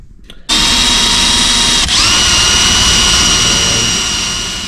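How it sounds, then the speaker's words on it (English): A power drill drilling holes in a Nissan 350Z drift car starts up close and loud, whining at a high steady pitch with one brief dip, then runs continuously and tapers slightly. "now I'm just going to do some drilling."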